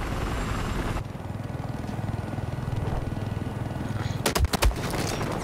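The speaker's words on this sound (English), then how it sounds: "It's our chopper" In Battlefield 4 gameplay, a helicopter drones steadily throughout, broken near the end by a quick burst of several loud, sharp gunshots.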